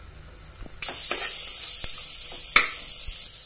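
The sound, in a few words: tomatoes added to frying spiced sprouted moong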